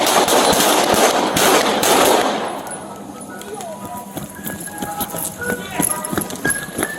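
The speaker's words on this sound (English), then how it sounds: "Shots fired, Central. Shots fired." Gunshots fired during an NYPD police encounter in the 42nd Precinct: a loud, rapid volley of sharp cracking shots over chaotic noise for about two seconds, then quieter clattering, rustling and scattered knocks as the scene continues.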